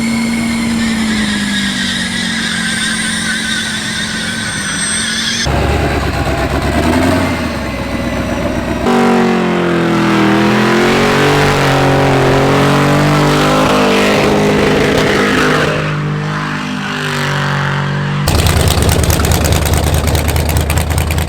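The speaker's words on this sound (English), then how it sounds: "it's a 75 Fleetwood with a LB7 Duramax" A 1975 Cadillac Fleetwood fitted with an LB7 Duramax diesel engine, running loudly and nearby, idling with a deep rumble and revving at points, across several abruptly cut segments.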